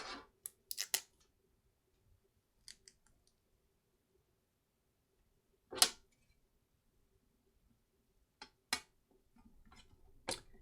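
Scissors snipping material while a mini PC is being built, heard as a few scattered quiet snips and clicks with long silent gaps between them.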